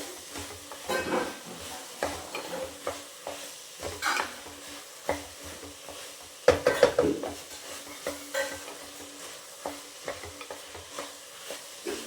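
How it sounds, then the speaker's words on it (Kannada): Ginger and garlic fry in oil while a spoon stirs them in a pot, giving intermittent scraping clinks over a light, steady sizzle. "ಅದು ಶುಂಠಿ ಬೆಳ್ಳುಳ್ಳಿ ಇದೆಲ್ಲ ಹಾಕಿರ್ತೀವಲ್ವ, ಅದೆಲ್ಲ ಸುವಾಸನೆ ಹೋಗೋವರೆಗೂ ಎಣ್ಣೆಯಲ್ಲಿ ಈ ರೀತಿ ಮಿಕ್ಸ್ ಕೊಡಬೇಕು"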